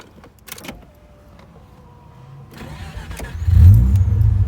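A Mazda RX7 with a newly replaced ECU cranks briefly and then catches, its engine settling into a loud, steady idle close by after some quiet clicks and handling noises.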